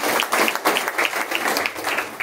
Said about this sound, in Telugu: మీరు అందరూ చప్పట్లతో ఆవిడకి ఆశిస్తున్నవారిగా కోరుతున్నాం